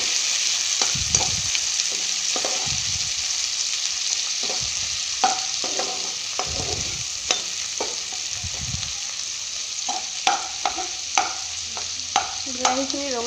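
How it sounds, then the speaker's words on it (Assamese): Tomatoes and onions fry together in a pan for Maggi masala tadka under a constant hiss, while a spatula stirs and scrapes in repeated knocks and clicks against the pan. "এতিয়া বিলাহীখিনি অকণমান ভালকৈ ভাজিম।"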